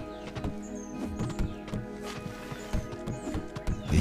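Horse hooves clip-clopping in the video game Darksiders 2, a quick irregular trot of hoof strikes close by, layered over game ambience with faint tonal sounds and no speech.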